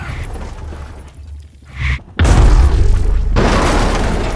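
An energy blast slams into a van and sends it flying, a brief rising whoosh, a short gap, then a sudden loud boom that rolls into a sustained, heavy roaring rumble.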